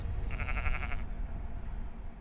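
Perendale sheep on a high-country farm, one clear bleat with a wavering, pulsing tone lasting under a second, heard over a low rumbling background of wind or handling noise.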